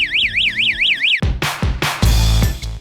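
A homemade fire alarm circuit set off with a lighter gives a loud electronic warble, rising and falling steadily for about a second, then breaks into harsh, noisy bursts and clatter.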